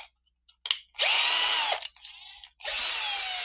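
A power drill works on a MiniMax guitar amplifier, with a few small clicks followed by two loud, close bursts of whining, revving motor separated by a brief lower-pitched stretch.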